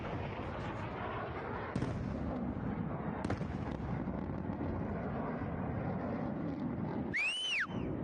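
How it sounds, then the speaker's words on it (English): Gunfire crackles through a firefight played back from another recording, with dense, continuous bursts and booms under heavy distortion, and a rising whistle near the end. "here's supposedly during the firefight"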